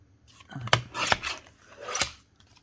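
Scissors cut through card stock or patterned paper, three or four short, crisp snips spaced out over a couple of seconds, close and fairly quiet, with no one talking.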